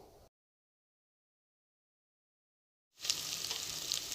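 Garlic and ginger fry in mustard oil in a pressure cooker for a chicken curry; after a stretch of silence, a bright, steady sizzle starts up abruptly near the end and holds.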